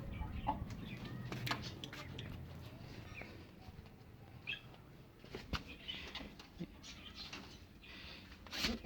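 A hen clucks softly now and then among other birds in a farmyard setting, faint and at middle distance, with occasional rustling and a voice murmuring in the background.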